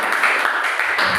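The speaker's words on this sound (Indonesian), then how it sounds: "Tepuk tangan untuk kelompok 3" A school class claps for a student group, a brief, dense burst of applause lasting around a second with no gaps.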